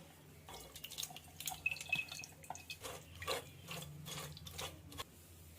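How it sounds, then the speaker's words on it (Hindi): Tamarind pulp is strained by hand, with faint, irregular drips and small wet squishes of liquid falling into a container, quiet and close with no talking. "सबसे पहले मैं अपनी इमली को छान लूंगी, इस पल्प को।"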